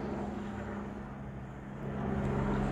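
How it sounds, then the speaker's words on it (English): A police helicopter flies overhead, a steady low droning rumble outdoors that holds constant and swells slightly louder toward the end. "Police helicopter's out today."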